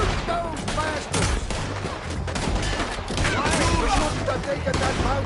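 Gunfire rings out in a town shootout in the video game Red Dead Redemption 2, with dense, continuous overlapping shots, loud and close, and shouting voices over the top.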